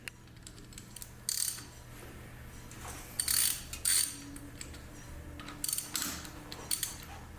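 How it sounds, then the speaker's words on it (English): Ratchet wrench with a 3/8 8-point socket loosening a square-head bolt on a 1961 David Bradley tractor, several short bursts of rapid clicking spaced apart, close and fairly quiet, with no talking. "I'm going to use a 3/8 8-point socket. Because the 8-point sockets for these square heads."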